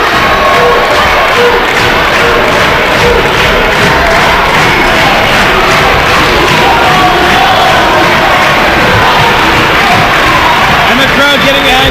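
A packed wrestling crowd cheers and roars for Tookie Tucker, the wrestling trucker, in a CCW match against Shokun in Bridgeport; a loud, dense, continuous wall of cheering with voices mixed into the din.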